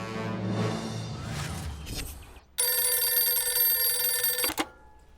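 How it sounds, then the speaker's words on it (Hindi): A telephone rings loudly and steadily for a couple of seconds after some muffled background sound, then cuts off abruptly. "मानव, कमिश्नर सर को फोन लगा।"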